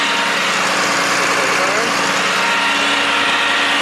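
A 2021 Ram tow truck engine idles with the PTO engaged, a loud steady drone with a constant rumble and a dense broadband hiss, unbroken for the whole stretch.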